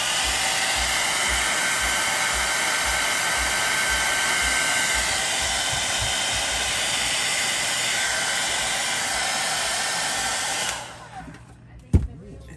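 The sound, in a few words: powerful blow dryer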